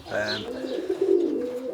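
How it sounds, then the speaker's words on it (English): Roller pigeons cooing close by, a soft, throaty coo rolling steadily through the short clip with faint higher chirps. "that is a roller pigeon"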